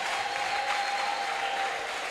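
A church congregation claps and acclaims in worship, a sustained, even burst of applause from a crowd heard close and continuous for a couple of seconds.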